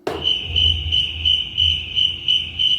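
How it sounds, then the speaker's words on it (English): A cricket chirping sound effect fires from a drum sample pad. It opens with a sharp trigger, then runs as loud, steady, rhythmic pulsing chirps that repeat evenly throughout. "That is crickets"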